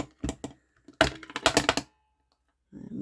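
A Crop-a-dile hole punch bites through a paper envelope with loud, close clusters of sharp clacks and thunks, followed by a brief pause and a softer rustle.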